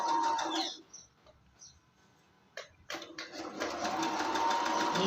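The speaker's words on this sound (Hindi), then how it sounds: "दोनों कपड़े को ऐसे हम सिलाई लगा लेंगे।" A sewing machine stitches two layers of cloth for a hindola jhalar, running in steady rapid bursts with a brief pause in the middle, close and fairly loud.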